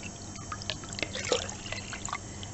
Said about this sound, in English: pop their jug underneath a tap and start to fill it up